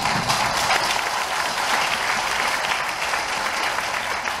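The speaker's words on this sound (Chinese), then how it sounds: "我们是不是给他们掌声？" Steady applause from an audience at an offshore wind farm completion ceremony, dense even clapping lasting throughout, with no voices rising above it.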